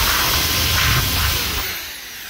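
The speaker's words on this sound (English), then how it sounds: "So I got a drill here, the sandpaper thing I kind of rigged up, and I'm just trying to drill out the center." Electric drill with a homemade sandpaper attachment boring out a centre during a Bafang BBSHD mid-drive e-bike conversion, giving a steady close whirring grind that eases off near the end.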